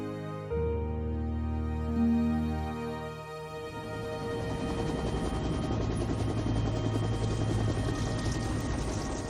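A helicopter's rotor chop and engine drone build and continue steadily, fairly loud, with an earlier tonal hum fading out in the opening seconds.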